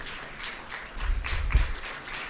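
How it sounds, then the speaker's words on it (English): A short burst of applause at a school event, a crowd clapping fairly faintly for a couple of seconds. "Please keep the applause coming"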